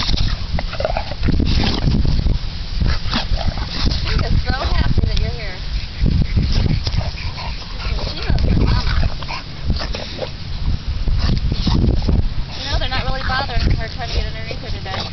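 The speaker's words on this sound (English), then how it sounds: "just pretty much great big old dog scramble." Bulldogs on a family outing scramble around with whimpers, yips and barks, close and fairly loud throughout, while people talk over them.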